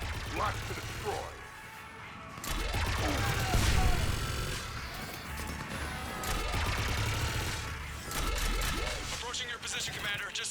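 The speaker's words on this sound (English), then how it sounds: "Just following the gunfire." Rapid bursts of gunfire and explosions in a busy Mass Effect 3 Legendary Edition combat soundscape, with sustained rumbling and clattering effects layered throughout.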